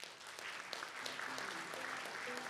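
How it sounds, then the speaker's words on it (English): Audience applause at a transport session of a conference in Manila, a steady, fairly faint wash of clapping with a quiet tonal sound underneath and no talk. "please join me in giving everyone another warm round of applause"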